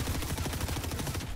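An Excalibur rifle in Fortnite fires a rapid burst of shots, dense, loud and close with an even rhythm across a moment, no talk.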